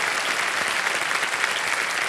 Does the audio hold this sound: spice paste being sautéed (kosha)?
no